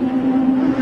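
An IMSA Camel GTP race car at Laguna Seca in 1987 roars past in fifth gear at about 140 mph, a loud sustained engine drone heard briefly and close.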